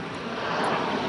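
A fixed-wing airplane passes overhead near Fiumicino, heard as a steady, moderately loud broadband engine roar with no gaps, close and unbroken for the whole moment with no talking.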